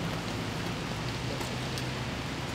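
Steady rain pours outside a pizzeria in West Chester, Pennsylvania, a dense, even hiss of drops on surfaces that holds at constant loudness throughout, with no voices.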